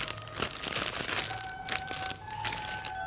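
A plastic pastry piping bag crinkles and rustles as it is filled with an almond mixture for Paris-Brest, a near, continuous crackling with sharper crunches scattered throughout.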